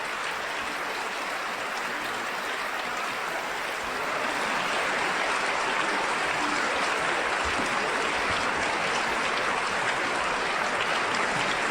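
Steady, dense applause from a large live audience at a talk, following a music crescendo, continuous and full throughout with no speech.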